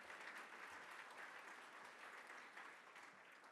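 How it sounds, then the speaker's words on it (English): Distant audience applause at a state-of-the-city address, a faint, even wash of clapping that holds steady for several seconds with no voices over it. "I'll take one or two claps."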